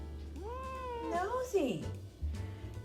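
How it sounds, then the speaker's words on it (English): A curious house cat in a kitchen meows in a couple of rising, drawn-out calls near the microphone, with low background hum and a soft bump or two after. "Kitty's curious."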